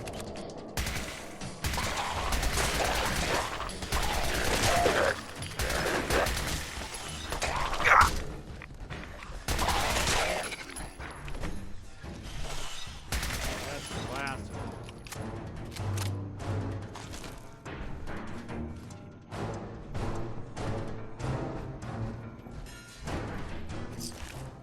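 Game gunfire in Fallout 4's Far Harbor expansion, repeated loud shots and bursts over roughly half a minute amid whooshes and thuds, with no talking.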